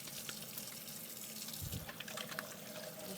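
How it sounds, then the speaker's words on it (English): Tap water runs steadily into a home sink as hands are washed, a faint continuous splashing stream with brief changes where the hands move under the flow. "let me wash my hands."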